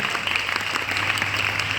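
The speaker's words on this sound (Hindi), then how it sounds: "सबके लिए होलसेल में ताली बजाओ" An audience at an Arya Samaj gathering in Hisar claps in a steady, even burst of applause from start to finish.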